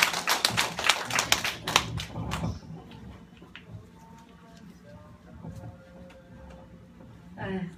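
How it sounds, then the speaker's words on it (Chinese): An audience at an indoor classroom gathering gives a short burst of dense clapping for about two and a half seconds, then it dies away into a quiet room with faint scattered taps. "再一个掌声"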